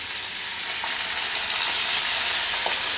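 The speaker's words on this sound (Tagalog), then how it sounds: "Magigisa tayo ng ampalaya" Ampalaya, bitter gourd, sizzles as it sautés in a hot pan, a loud, steady, close-up frying hiss with faint stirring taps and no voices.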